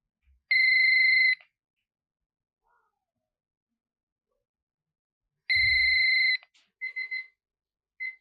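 A telephone rings in a Pakistani TV drama scene: two long, loud electronic ring bursts separated by a few seconds of quiet, followed by a few short fainter chirps, with no talking.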